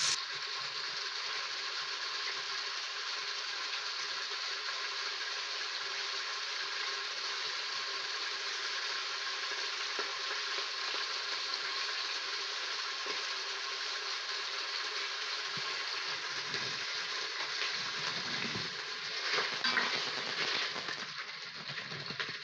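Beef pieces brown in a hot pan of oil and butter for stroganoff, giving a continuous, even, hissing sizzle. It holds steady for about twenty seconds with slight crackling toward the end.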